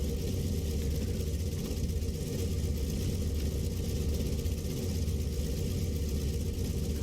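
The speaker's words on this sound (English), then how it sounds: "listen to this engine." An Antonov An-2 radial piston engine idles steadily in Microsoft Flight Simulator 2020, parked at Berlin, a continuous close drone with a broad rumble that stays even throughout, with no voices over it.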